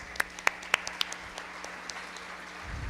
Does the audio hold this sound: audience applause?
yes